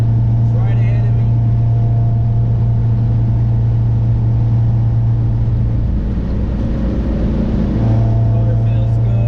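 A race car engine, a B-series four-cylinder, drones loud and steady at sustained revs during a run, with a brief dip and change in pitch partway through before it settles back to the same steady note.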